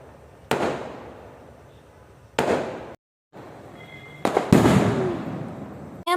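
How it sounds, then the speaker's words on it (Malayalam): Firecrackers go off at a nearby temple on a late-month festival night: four or five sharp, loud bursts spaced a second or two apart, each trailing into a long rumbling echo, with a closer cluster of pops near the end. "ആ സമയത്തിൻ്റെ ഇടയ്ക്ക് ഞങ്ങളുടെ അടുത്തുള്ളൊരു അമ്പലത്തിൽ പടക്കം പൊട്ടിച്ചതാണ് കേട്ടോ"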